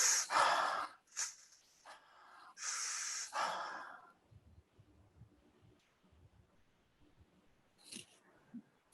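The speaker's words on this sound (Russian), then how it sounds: "Active breathing, powerful breathing." Intense, powerful active breathing, with loud forceful rushes of air in several bursts close by, then quieter rustling and a last sharp inhale.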